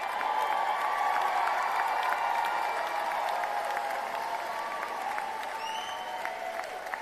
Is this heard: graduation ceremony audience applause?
yes